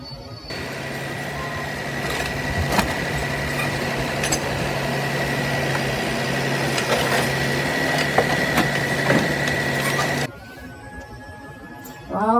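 A green garbage collection truck idles steadily and fairly close, a continuous engine drone with a droning hum that runs for about ten seconds before cutting off abruptly, leaving quieter background noise.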